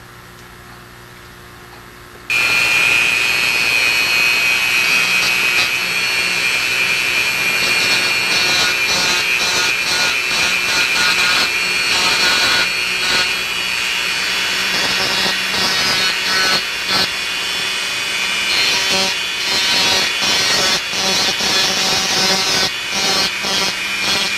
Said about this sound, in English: It is extremely important not to Dremel into the distal end itself.